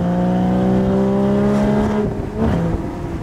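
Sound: Porsche sports car engine revving

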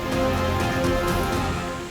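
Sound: heavy rain with strong wind

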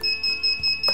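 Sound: racing quadcopter drone beeper beeping

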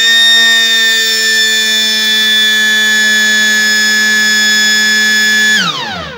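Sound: changeover alarm buzzer

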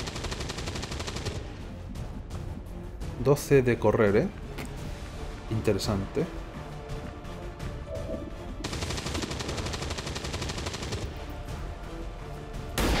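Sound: gunfire from the video game XCOM 2

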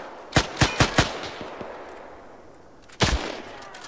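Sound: gunfire in a military video game

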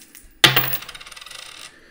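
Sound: three coins tossed for I Ching divination

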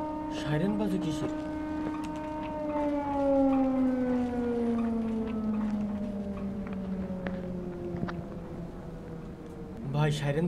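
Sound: siren in video game Don't Scream

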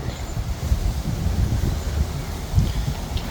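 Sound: strong wind during storm

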